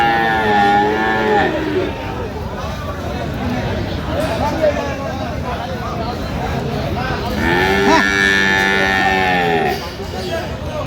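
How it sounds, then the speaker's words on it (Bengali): Friesian and crossbred bull calves moo loudly and repeatedly at a busy rural cattle market, with long, close calls rising over a steady babble of crowd chatter and voices. "কলকাতার ষাঁড় বাছুর যেখানে বেচা কেনা হচ্ছে আমরা সে জায়গায় রয়েছে।"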